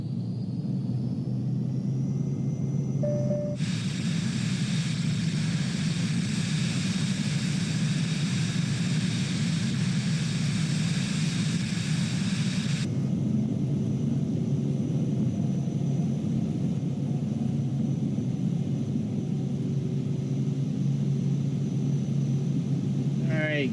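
A Cirrus Vision Jet G2 taking off in Microsoft Flight Simulator 2020, with a steady low jet engine rumble that swells into a louder broadband roar for several seconds, then settles back into a sustained drone.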